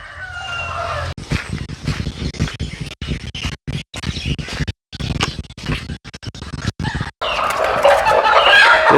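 Native country chickens cluck in short, choppy bursts close by, with a busier, brighter clamor of birds rising toward the end.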